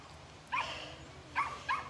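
Dogs barking outdoors on a sunny afternoon, three sharp barks: one at about half a second, then a quick pair near the end, fairly close, over a quiet background.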